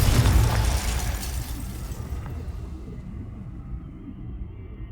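Confringo fire spell explosion in the Hogwarts Legacy video game, a loud burst with a heavy boom that rumbles and fades over a few seconds, alone without talk.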